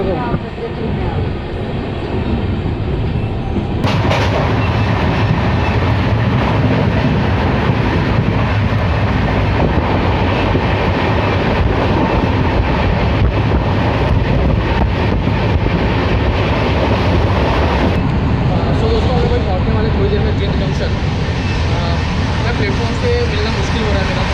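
Steady loud rumble and rattle inside a moving Ganga Nagar Express passenger train running from Delhi to Bathinda, continuous wheel and carriage noise throughout with a brief shift near the end, people talking faintly beneath it.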